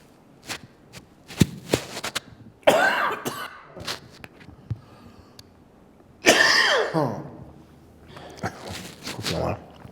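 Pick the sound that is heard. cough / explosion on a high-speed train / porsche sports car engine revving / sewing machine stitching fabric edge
cough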